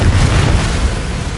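A Confringo blasting spell explodes in Hogwarts Legacy, a dense, rumbling low boom that fills the short moment at steady loudness with no voices.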